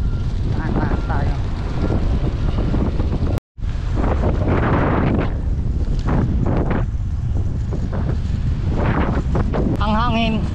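Strong wind buffeting a microphone while cycling beside the sea, gusting roar throughout with a brief dropout, as a person talks over it.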